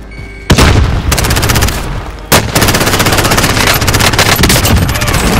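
In Call of Duty: Modern Warfare, a frag grenade blasts with a loud close boom, then a second burst strikes as rapid, dense gunfire rattles on continuously to the end.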